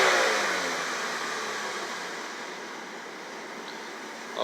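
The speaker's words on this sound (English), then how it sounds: "I'm going to rev this, accelerate to wide open throttle" A Chevy Malibu engine is revved to wide open throttle, a loud, close, steady roar that eases slightly in strength over several seconds.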